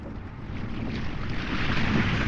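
Wind blows across a sailboat near Antigua as a steady, close roar with gusty microphone buffeting that swells slightly louder toward the end, with no voices.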